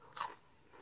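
Crunchy salted chips bitten once, a single dry crisp crunch near the mouth, followed by faint chewing noises and quiet.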